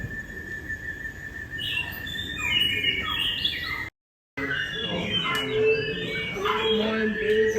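Recorded birdsong plays from an interactive wall at Bird Paradise in Singapore: bright chirps and whistled phrases repeat at moderate volume, with a short dropout midway through.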